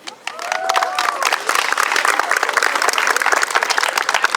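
Crowd at a softball senior night applauding and cheering for graduating seniors, clapping building quickly after a short voice at the start and holding loud and continuous, with scattered whoops in the mix.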